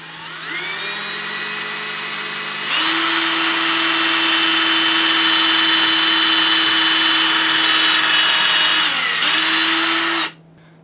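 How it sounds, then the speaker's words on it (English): An electric drill whirs steadily, pitch rising as it speeds up and bites into the neck of a plastic soda bottle, then winds down and stops abruptly near the end. "I'm going to take a drill and drill a hole in the neck of the top bottle"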